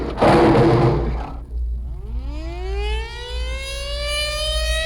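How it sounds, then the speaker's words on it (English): After a burst of noisy rumble, the noon civil defense siren at Lackland Air Force Base in 1969 winds up, its tone climbing steadily and sustaining loud over a low hum. "Lackland's noon siren"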